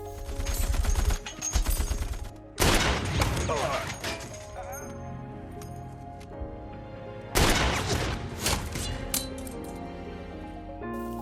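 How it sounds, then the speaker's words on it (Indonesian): Gunfire from a German sniper in the World War II tank film Fury: loud sharp crashing bursts in a dense film mix, with two heavy impacts standing out against music and effects. "beberapa tembakan berhasil dilesatkan si sniper tepat mengenai tubuh Don"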